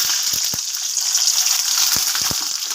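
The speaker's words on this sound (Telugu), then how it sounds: "పల్లీలను ఆయిల్లో వేసి ఫ్రై చేసుకుంటున్నాను" Peanuts frying in hot oil, a steady loud bubbling sizzle with occasional soft pops and crackles, close up.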